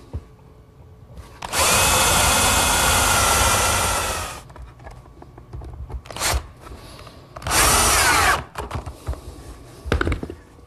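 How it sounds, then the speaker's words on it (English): A power drill bores screw holes through a shelf set into a dado on a miter saw work station, with a long whining run followed by two shorter bursts and a few brief blips, loud and close. "drill a few holes for some screws"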